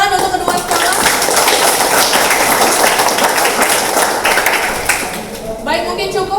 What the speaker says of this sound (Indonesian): Tepuk tangan untuk kedua sekolah